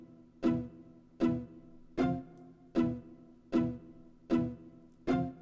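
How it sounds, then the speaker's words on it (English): Pizzicato string melody in a goofy beat, a simple two-note pattern plucked in an even rhythm, seven crisp short notes with quick decays, clean and alone. "First thing I laid out, guys, was this pizzicato string"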